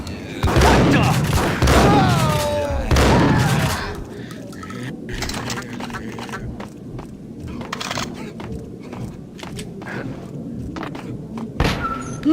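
Gunfire in the action shooter Max Payne: a few heavy close shots ring out between cries, then a quieter stretch of scattered thuds and clatter.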